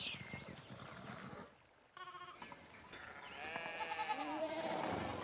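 Sheep bleat repeatedly in the medieval video game Pentiment, wavering cries layered over busy game ambience and a brief chime-like tone, growing louder and more crowded toward the end as the flock runs about.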